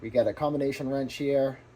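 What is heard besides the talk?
None of the usual background noises is heard.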